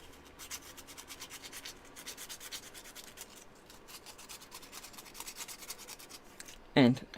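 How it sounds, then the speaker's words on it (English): Sandpaper rubbing on a small wooden part of a model, a quiet, rhythmic series of back-and-forth scratchy strokes, fairly close, ending with a short sharp knock or clatter. "let's sand that down a little bit more"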